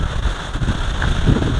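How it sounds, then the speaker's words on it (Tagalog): Strong wind buffets the microphone outdoors near a house and banana trees in Alaminos, Laguna, a close, rumbling roar with uneven gusts throughout. "Medyo malakas yung hangin."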